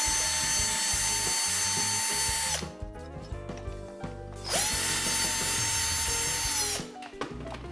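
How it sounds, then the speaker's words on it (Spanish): A power drill with a 4 mm bit whines loudly and steadily, boring out a hole in a 3D-printer extruder part, stops briefly with faint mechanical clicks, then spins up again for a few seconds before cutting off. "Para ello utilizaremos una broca de 4 y un taladro"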